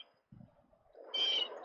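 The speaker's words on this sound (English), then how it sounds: "At least now we can hear the birds outside, Noodles." Birds call outdoors on a mild morning in New Jersey, a faint, distant chirp rising briefly over quiet background ambience, with no voices.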